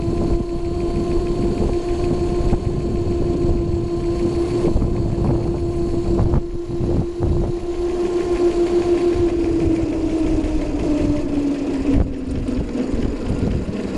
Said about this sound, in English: I'm a 210 pound guy on a 120 pound go-kart with an 800 watt DC motor